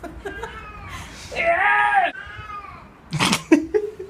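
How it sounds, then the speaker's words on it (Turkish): A cat yowls loudly in the background, with one long drawn-out wail and a second sharper cry a moment later. Talk can be heard around the cries. "Yani kedi bağırıyor yani arkada."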